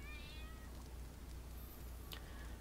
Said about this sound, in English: There's actually quite a few black cats here.